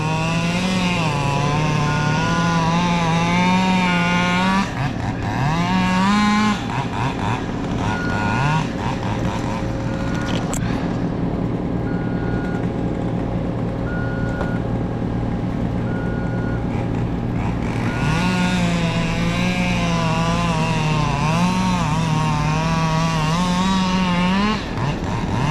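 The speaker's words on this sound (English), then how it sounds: "you better kill that chainsaw just for a second" Chainsaw running steadily during pruning of a massive oak from a DinoLift 92RXT lift, its engine droning loud and continuous with revving pitch swings near the start and end.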